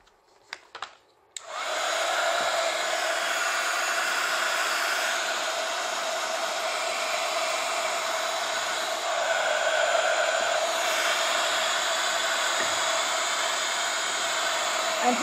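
A hair dryer blows steadily and close for a long stretch, drying an acetate butterfly craft piece, a constant whooshing airflow starting after a brief rustle.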